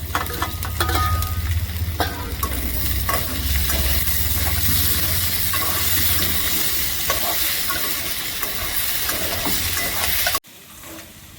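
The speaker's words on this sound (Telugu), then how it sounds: "ఇవన్నీ బాగా ఫ్రై అయినాయి" Vegetables and large-cut tomatoes fry for cauliflower curry, a continuous sizzling hiss with scraping stirs throughout, ending abruptly near the close.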